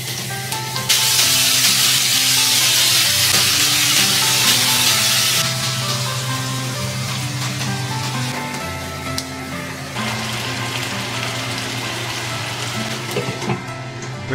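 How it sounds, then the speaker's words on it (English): Noodles and green beans stir-fried in a wok, a loud steady sizzle with bright spattering hiss at the start that eases into continuous frying and occasional clatter. "Then lightly stir fry, and it's done!"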